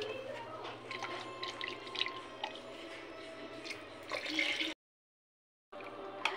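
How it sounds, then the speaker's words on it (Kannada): Cooked horse gram water poured into ground sambar masala in a pot, a faint close liquid splashing and dribbling with a brief gap of silence near the end. "ನಾನು ಇಲ್ಲಿ ಮಸಾಲೆ ನೀರನ್ನ ಹಾಕ್ಕೊಳ್ತಾ ಇದ್ದೀನಿ, ಕಾಳನ್ನ ಬೇಯಿಸ್ಕೊಂಡಿದ್ನಲ್ಲ ಅದ್ರ ನೀರು."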